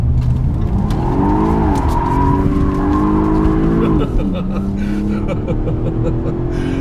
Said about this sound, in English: So that was a little bit of a wild U-turn there, but it demonstrates the performance.